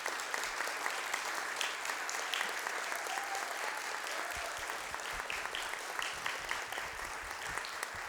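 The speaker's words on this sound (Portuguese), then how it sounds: "eu quero dar uma salva de palmas" Steady audience applause fills a formal solemn session hall, a dense continuous clapping that stays even throughout without pauses.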